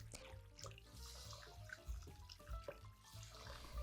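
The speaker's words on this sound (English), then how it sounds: "Wash well and clean under the cold running water." Cold tap water runs steadily into a sink, a soft continuous splashing with faint knocks and handling sounds, fairly quiet and close.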